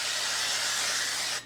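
Nonstick cooking spray hisses steadily onto a hot pan while vegan mung bean scrambled eggs are being made, a loud continuous close-up spray that cuts off abruptly at the end.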